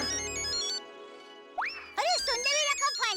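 A phone ringtone plays in a household comedy scene, a bright electronic melody that rings briefly, cuts off, then gives way to sliding tonal chirps and a lively voice speaking over it.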